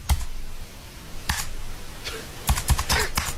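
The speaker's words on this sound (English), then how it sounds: "Slow typing." Slow, irregular keystrokes on a computer keyboard, a few separate clicks followed by a quicker cluster near the end, close and fairly quiet.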